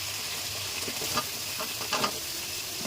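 Potatoes frying in a pan with a steady, close sizzle, broken by a few brief stirring scrapes near the middle and end; no one speaks.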